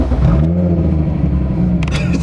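A Volkswagen Vento's engine revs close by, a loud, steady mid-pitched drone that holds through and gently swells, with a faint clatter near the end.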